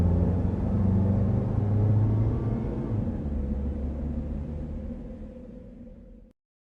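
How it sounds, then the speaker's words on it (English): A car in a horror video game drives away, a low rumbling engine drone that slowly fades over several seconds before ending abruptly. "I raced my car and left Blackwood Manor as quickly as possible."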